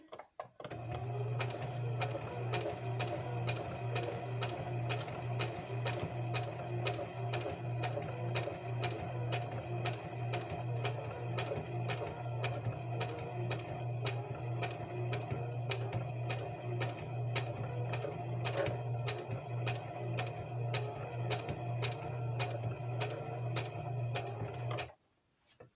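A sewing machine runs a long straight stitch on lace, a fast, even mechanical clatter with a steady low hum, continuous and close for about twenty-five seconds before stopping abruptly.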